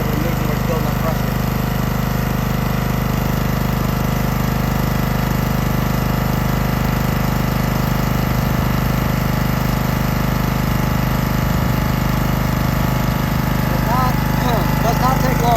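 Engine-driven air compressor for a hookah diving rig running steadily as it builds pressure toward 150 pounds, a loud, continuous mechanical drone close by.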